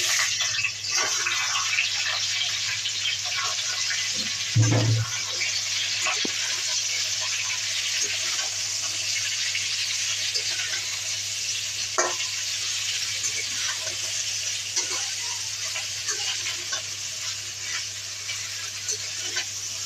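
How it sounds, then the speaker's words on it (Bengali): A vegetarian five-vegetable curry of pumpkin, yardlong beans, green banana and jackfruit seeds frying in a pan, giving a steady, soft sizzle with occasional stirring scrapes and clinks, no talking. "এই সবজিগুলো ভেজে নিই।"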